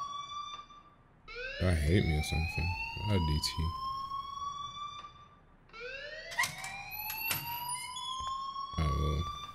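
An electronic school alarm wails in rising, siren-like sweeps in the Life is Strange video game, loud and repeating in two long bursts, with characters talking over it.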